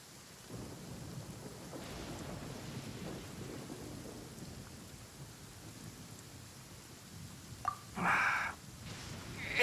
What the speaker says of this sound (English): they were being torn to shreds by the bolts of lightning